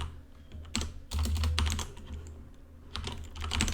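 Rapid typing on a computer keyboard, a quiet, close run of clicking keystrokes in uneven bursts with no voices.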